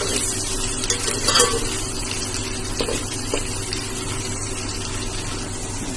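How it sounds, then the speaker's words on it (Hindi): Onions roasting in a pan for a black chickpea curry give a steady, fairly loud sizzle with stirring scrapes, a few sharper clicks near the start and middle, alone without voices. "प्याज को हम ब्राउन नहीं करेंगे, हल्का सा रोस्टिंग करेंगे, लाइट ब्राउन।"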